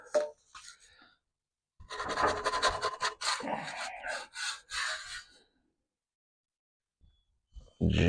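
A big spatula scrapes and slides a smoked BBQ chicken pizza onto the grate of a drum smoker, making a close, rough rasping that lasts a few seconds between quiet gaps.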